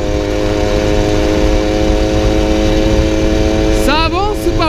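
A 1997 Peugeot 103 RCX moped run at full throttle once warmed up, giving a steady, loud buzzing two-stroke drone, with a brief rev surge near the end.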